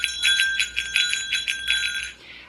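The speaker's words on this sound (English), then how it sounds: "the steps that you take make a bell chime." A small bear bell hanging on a hiking bag jingles in a quick rhythmic series of bright chimes, close and clear, one strike per step, before fading out at the end.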